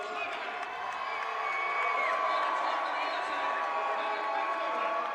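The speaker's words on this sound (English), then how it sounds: "The crowd very loud for Luke tonight." Crowd at the Delta Fighting Championship 9 fight event cheering loudly, a sustained roar and whoops filling the arena, with a commentator's voice talking over it.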